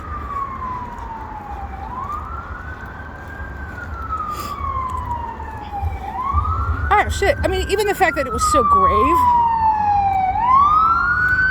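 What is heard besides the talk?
ambulance siren passing in the street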